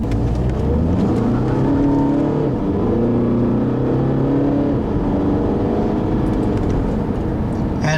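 A 2012 Volkswagen Passat TDI diesel with a DSG gearbox accelerates from inside the cabin, its engine drone rising steadily in pitch and loudness, with a gear change partway through and a continuous whir.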